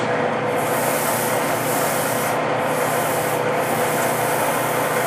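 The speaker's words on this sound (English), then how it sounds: "this sandpaper, I find it's nice. It has that foam back." Steady, continuous rasping of foam-backed sandpaper rubbing back and forth on a wooden baseball, close and loud, with no pauses and no voices.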